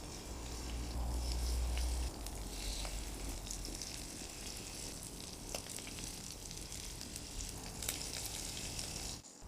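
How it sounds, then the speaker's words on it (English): Battered liver pieces fry in hot oil with a constant soft sizzle and faint bubbling, a few brief pops and clinks breaking through, with a low hum underneath at the start. "We fry the rest"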